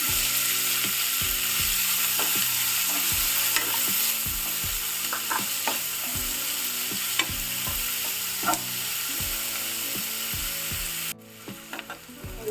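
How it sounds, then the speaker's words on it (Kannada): Chopped onions for palak paneer fry in a pan under a constant hiss, with a rapid train of sharp mechanical clicks and scrapes running throughout, close and steady, then briefly dropping away near the end. "ಈಗ ಕಟ್ ಮಾಡಿ ಇಟ್ಕೊಂಡಿರೋಂಥ ಈರುಳ್ಳಿ ಹಾಕೊಳ್ತಿದ್ದೀನಿ."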